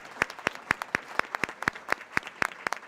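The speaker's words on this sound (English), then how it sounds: "Let's give them a round of applause" Scattered hand claps ring out in a steady rhythm from an audience at a school board of education session honoring teachers and school leaders, fairly close, with no talking over them.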